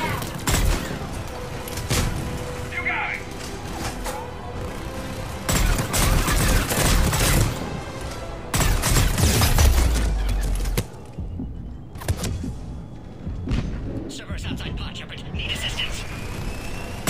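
Dense Mass Effect 3 combat gunfire: repeated bursts of shots and sharp cracks, some loud and near, others fainter, with mechanical clatter and voices mixed into the battle noise.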